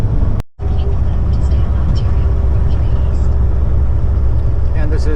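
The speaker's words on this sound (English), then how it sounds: "of course the truck slows down considerably on hills" A heavy haul truck rumbles steadily along Freeway 403 in Mississauga, Ontario, with a constant low engine and road drone filling the clip after a brief dropout near the start.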